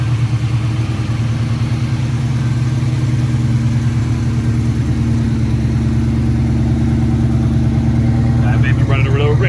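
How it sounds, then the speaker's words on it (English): A car engine fitted with a newly installed Whipple supercharger runs steadily with a low, even rumble, while a person talks faintly near the end. "you hear the car running"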